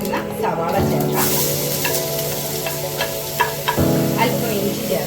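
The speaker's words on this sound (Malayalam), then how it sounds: "കടുക് പൊട്ടി കഴിയുമ്പോൾ അതിനകത്തേക്ക് ചെറുതായി അരിഞ്ഞു വെച്ചിരിക്കുന്ന സവാള ചേർക്കാം." Finely chopped onion dropped into hot oil after mustard seeds have popped, for a carrot and cabbage thoran: a close, steady sizzle with stirring clicks and scrapes of a spoon in the pan, no talking.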